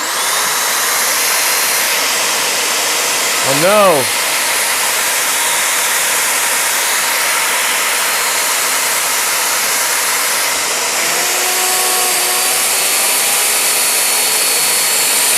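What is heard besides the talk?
vacuum switched on in build lab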